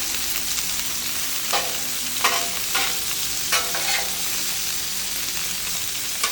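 Steak sizzling with melting butter on an outdoor griddle, a steady close frying hiss broken by brief louder spatters and scraping strokes as butter is basted over the meat.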